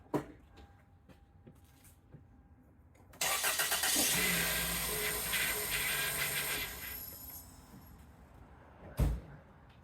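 A car engine cranks and catches after maintenance work, then runs at a loud steady idle for several seconds before dropping off, followed by a sharp thump.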